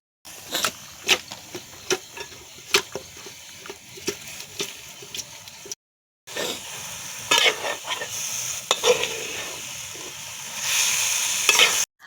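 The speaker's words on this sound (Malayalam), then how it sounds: "ആ വെളുത്തുള്ളി, ഇഞ്ചി, പച്ചമുളക് പേസ്റ്റൊക്കെ ഇട്ടിട്ട് നല്ലോണം ഇളക്കി കൊടുത്തു." Garlic, ginger and green chilli paste sizzles in a masala as a spoon stirs it in steady, repeated scrapes, with the loud frying hiss swelling toward the end and no talking.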